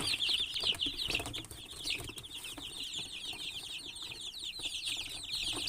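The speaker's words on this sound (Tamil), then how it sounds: "இதெல்லாம் நம்ம கிட்ட பறிச்ச கோழி குஞ்சுங்க தான்" Many young chicken chicks peeping in a high-pitched, rapid chorus, fairly faint and continuous, with soft rustling and the odd flutter of wings beneath.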